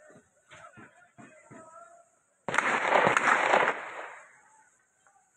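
Brief speech, then a sudden loud bomb blast of crackling explosive noise that rumbles for about a second and a half before fading out.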